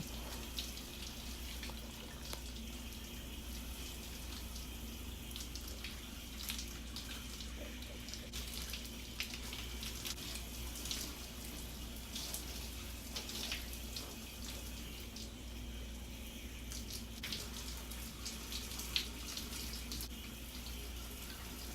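Running water rinsing shampoo out of curly hair on wash day, a steady faint splashing stream throughout with no talk.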